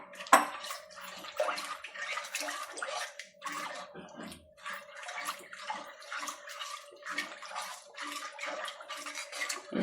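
Tamarind water is poured into a pot of tuna fish curry, giving a quiet run of repeated splashing, sloshing bursts with faint metallic clinks.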